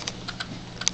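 Typing on a USB computer keyboard, a handful of quick, light key clicks at irregular spacing over a steady background hum, fairly faint and close.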